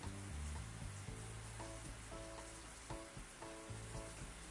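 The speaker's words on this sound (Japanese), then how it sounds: "これで、犬を洗う。" Water spraying steadily over a dog being bathed with dog shampoo in the Pets Hotel management game, a continuous hissing wash under a faint musical tone pattern, with no talking.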